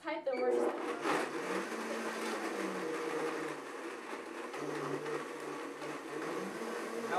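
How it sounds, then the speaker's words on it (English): A blender whirs loudly as it blends raw nut milk, its motor pitch wavering and shifting while speech runs faintly beneath. "get your blender lid on tight"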